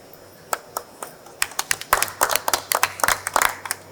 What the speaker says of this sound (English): I want to thank the lady in the second row for the clap.